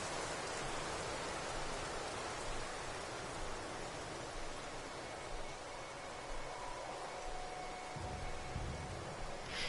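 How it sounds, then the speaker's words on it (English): Rain in the video game No Man's Sky on PS4 Pro, a dense, steady wash of hissing rainfall with no voices. "It just looks as though it rains around us."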